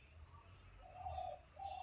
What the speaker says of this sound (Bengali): ওই দেখো পাখি ডাকছে, পাখির আওয়াজ।